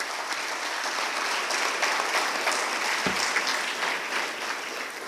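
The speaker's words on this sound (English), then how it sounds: "Please give a big round of applause." Steady, dense applause from an audience at a homoeopathic medical college graduation ceremony, a continuous wash of many hands clapping at an even level with one brief low thump partway through.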